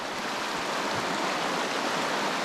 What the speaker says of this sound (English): There's quite a bit of water coming down.